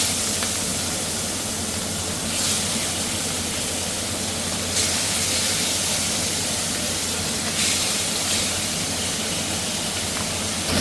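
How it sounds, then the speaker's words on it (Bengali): Pieces of katla fish fry in a kadai with a loud, continuous hiss and sputter that swells slightly every few seconds, close up and with no talking. "তার জন্য প্রথমে কাতলা মাছটা হালকা ভেজে নিচ্ছি"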